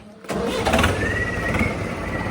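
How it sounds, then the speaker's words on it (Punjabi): A tractor engine starts up early in the morning before heading out to sow wheat: a short crank, then the engine catches and settles into a loud, steady, close running rumble. "ਇਹ ਆਪਾਂ ਟਰੈਕਟਰ ਸਟਾਰਟ ਕਰਕੇ ਪਹਿਲਾਂ ਹੀ ਗਾਰੂ ਗਾਰੂ ਕਰ ਲਿਆ ਸੀਗਾ"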